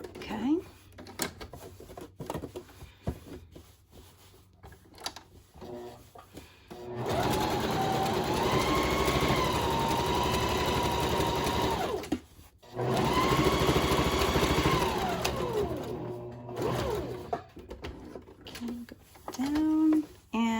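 A sewing machine stitches down a hobo bag to form separate pockets, running in two sustained bursts of steady whirring, each a few seconds long, with quiet pauses and handling noises between and around them.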